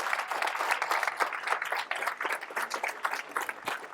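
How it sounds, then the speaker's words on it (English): A graduation ceremony audience claps for the graduates, a dense, continuous round of applause from many hands filling the room at steady loudness throughout. "Let's give these graduates a round of applause."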